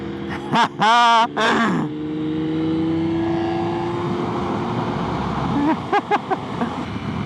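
A Lamborghini Diablo approaches with a rising engine rumble and revs, its note climbing and swelling as it draws near, while people talk over it at the start and end.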